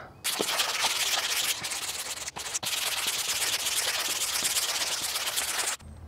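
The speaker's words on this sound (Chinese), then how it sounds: "先用砂纸把木头稍微打磨一下" Steady, continuous rasping of sandpaper rubbing over wood before painting, close and loud, with two brief pauses before stopping near the end.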